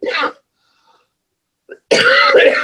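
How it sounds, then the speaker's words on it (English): A short cough bursts out at the start, followed by a pause and a faint rasp, then a longer, louder harsh cough or throat-clearing. "some people are coughing"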